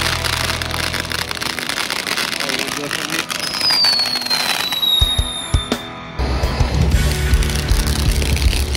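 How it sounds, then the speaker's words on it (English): A Fourth of July fireworks rocket launches with a rising whistle, then pops and crackles amid background noise, with people talking nearby. "Flammable rocket."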